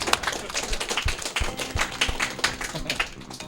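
Several people clapping in a quick, dense patter of applause during a Mega Man X2 race, steady and moderately loud throughout.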